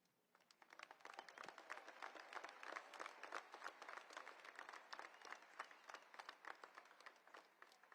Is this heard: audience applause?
yes